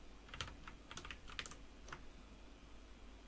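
Quiet, close bursts of typing on a computer keyboard while writing code, a few quick clusters of key clicks followed by a pause, with no speech.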